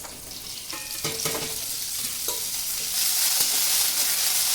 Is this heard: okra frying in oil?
yes